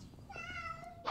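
A cat meows once, a clear drawn-out tonal cry heard close by over a faint background, with no talking.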